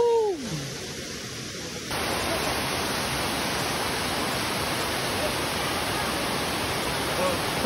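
Rushing water at Sulcok Falls, a broad steady roar filling the background, close and loud, after a brief whoop of a voice at the start.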